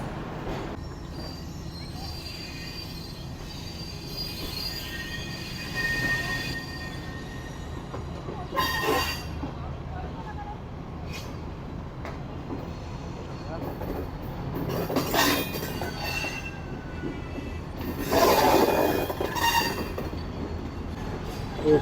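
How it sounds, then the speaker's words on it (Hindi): Passenger train pulling out of the long platform at Mirpur Khas station in the Thar Desert, a steady rumble of rolling carriages with rising wheel squeal and clatter as it gathers pace, people talking faintly in the background. "ये जिस प्लेटफॉर्म से इस वक्त हमारी ट्रेन निकल रही है"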